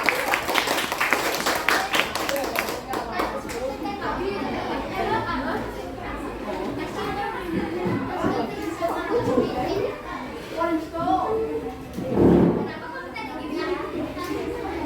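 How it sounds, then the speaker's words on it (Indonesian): Schoolchildren in a classroom give group 5 a burst of clapping and chatter that fades into lively overlapping voices, with one louder clap near the end. "Ya, berikan tepuk tangan pada kelompok 5 ya."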